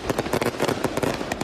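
Fireworks set off beside the light rail in Tamsui, New Taipei, during a temple procession, a rapid string of sharp crackling bangs and pops at moderate distance, with no voices.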